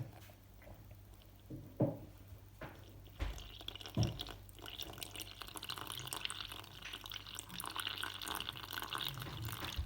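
Water poured into a sourdough starter in a kitchen, a close, steady splashing stream after a few drips and clinks of the jar, with no talk.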